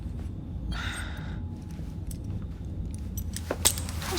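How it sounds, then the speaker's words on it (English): Keys jangle in Assassin's Creed Syndicate as they are handed over, a short metallic rattle standing out above a steady low game ambience, with a sharper clink near the end. "Now hand over your keys."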